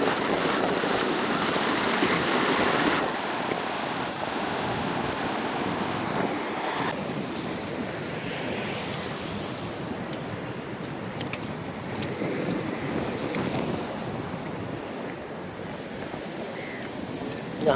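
Sea waves breaking on a shore near Colombo, a continuous loud wash of surf and churning water with strong wind buffeting the microphone throughout.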